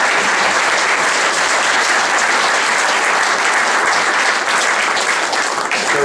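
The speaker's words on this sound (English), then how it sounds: "Let's give them a round of applause" Applause from a meetup audience for panelists at a Mobile Monday Silicon Valley evening spotlighting Japan: dense, steady clapping at close range that fills the whole stretch without letting up.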